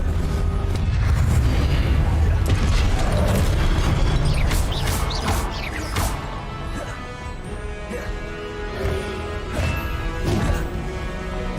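Fiery blast of the Confringo spell in Hogwarts Legacy, heavy booms and crashing impacts repeating through a loud, busy stretch of combat, with a voice talking over parts of it.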